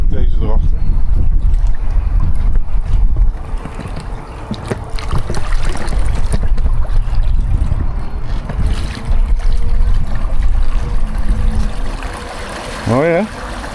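A large yacht cruises under a small electric outboard motor fitted for the winter in place of its usual 25 hp engine, giving a steady low rumble of hull and water with wind buffeting the microphone throughout.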